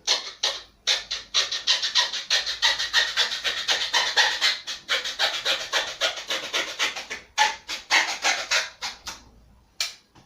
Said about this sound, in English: so I should just hacksaw them